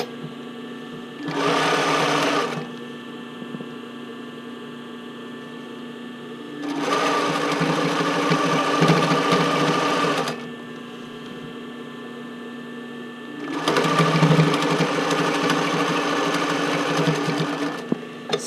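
Sewing machine stitching bra cups into the band of a classic bra, running in three bursts of a few seconds each, close and steady, with quiet pauses between the runs.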